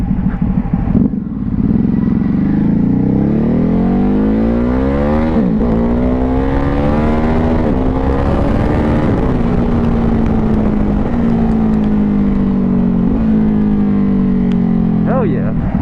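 A Ducati Hypermotard 950 SP motorcycle revs and accelerates through gears, its loud engine note rising and falling in pitch up close, with wind rush and a rider's voice in places.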